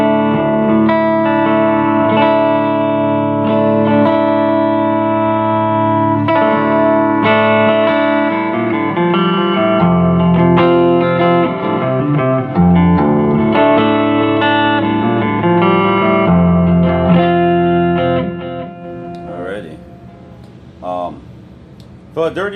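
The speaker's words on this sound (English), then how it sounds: "So this right here is going to be the Fender with the TC Electronic." Electric guitar on the clean channel of a Fender amp with a TC Electronic effect, playing sustained chords and melodic lines with shimmering reverb, loud and close, fading to sparse notes at the end.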